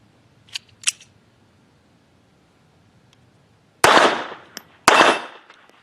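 Two sharp small-caliber shots from a Jimenez JA-22 pistol ring out close by, the second about a second after the first, each with a short echoing tail; faint clicks precede them.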